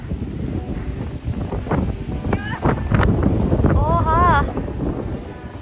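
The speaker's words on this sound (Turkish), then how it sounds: "Aşırı rüzgar var." Strong wind buffeting the microphone in loud, roaring gusts at a plum blossom festival in Japan, with muffled voices and a brief high warbling sound partway through.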